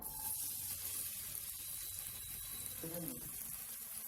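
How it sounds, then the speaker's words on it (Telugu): Onion slices frying in oil in a pan for a moong dal capsicum curry, a steady soft sizzle running throughout with a brief clink of utensils partway through. "ముందుగా కట్ చేసి పెట్టుకున్న ఆనియన్ చీరికలని అందులో వేసి ఫ్రై చేసుకుందాము"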